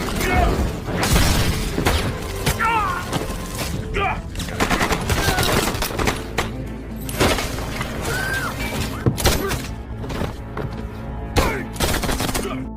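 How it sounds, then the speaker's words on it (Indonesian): Action film gunfire crackles in dense, loud, continuous volleys of rapid shots, mixed with shattering and mechanical clatter, with sparse voices among the barrage. "Berpindah ke John yang rela ditembak berkali-kali demi melindungi Andy dan Mia yang hendak turun ke bawah menemui Jack dan pasukan FBI."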